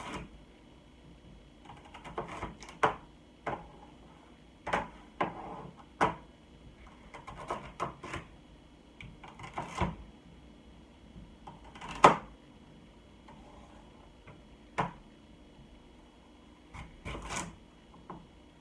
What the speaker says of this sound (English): I just take them, lay them that way, and cut them.